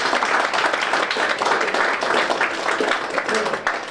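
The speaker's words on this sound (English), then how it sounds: "So give them a round of applause." Wedding guests applauding the events team during the speeches, a dense, even wash of clapping across a room, moderately loud and sustained throughout.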